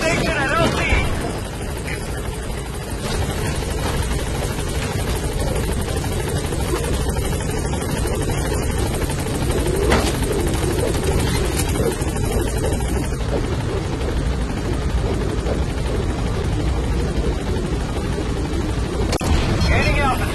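Pequod, the transport helicopter in Metal Gear Solid V: The Phantom Pain, arriving at a landing zone with a steady loud rotor drone and engine rumble, continuous and close, with game radio chatter over it.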